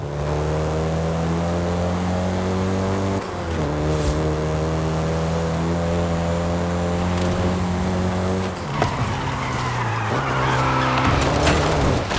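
A VW Golf GTI hot hatch driving in the video game Forza Horizon 5, its engine drone holding steady, then shifting pitch several times, with tire skids and squeals layered in near the end.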